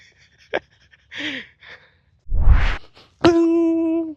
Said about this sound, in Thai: อันนี้เสียงหอบผมเองนะ